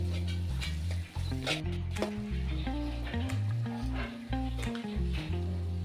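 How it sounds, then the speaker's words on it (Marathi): Onion and goda masala being stirred in a hot pan for green tomato chutney, with a steady close sizzle and scraping stirs, loud and continuous, with no talking. "कांदा, थोडासा गोडा मसाला, त्यालाही मिक्स करून घ्यायचं आपण."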